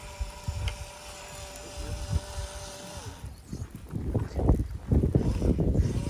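Gusty wind buffets the microphone outdoors in Kremenchuk, Ukraine, rumbling in uneven bursts that grow stronger partway through.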